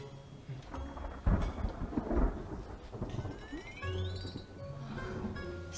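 Thunder rolls ahead of rain, with a couple of heavy, booming rumbles followed by a longer low growl over a faint patter.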